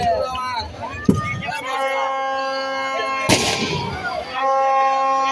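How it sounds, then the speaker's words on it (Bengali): Fireworks explode at a badminton tournament celebration, two loud booming blasts a couple of seconds apart beneath an announcer speaking over a PA and a crowd. "আরো একটি সুন্দর আতশবাজি একের পর এক আতশবাজি ছড়াছড়ি"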